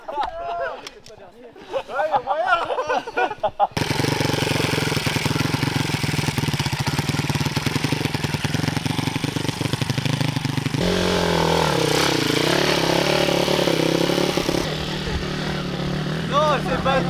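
A dirt bike engine on a hill start drones loudly and steadily at close range, with its pitch rising and falling as it is revved. Voices talk over the opening seconds.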